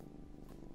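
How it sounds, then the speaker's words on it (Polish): A cat purrs in a video game, a low, soft, continuous rumbling purr with a gentle pulsing texture, quiet and steady throughout. "Jak mruczy."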